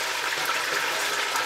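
Beef being stirred as it fries in a pot for biryani gives a steady, close sizzle with soft scraping throughout, ending in a brief louder clatter.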